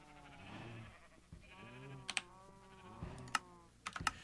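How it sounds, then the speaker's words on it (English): Sheep bleat in a Minecraft FTB Infinity modpack pen kept for wool, several wavering game bleats spread across the clip, with sharp clicking keyboard taps mixed in between. "The sheep are only in here for their wool."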